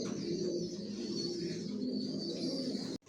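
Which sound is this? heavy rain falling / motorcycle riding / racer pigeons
racer pigeons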